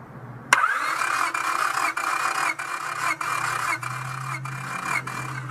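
An engine cranks on the starter during a wet compression test with oil added to the cylinder, a steady rhythmic chugging of about six even pulses after an abrupt start, moderately loud and alone.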